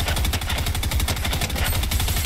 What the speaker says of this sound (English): I got him with one shot from the pistol, from this range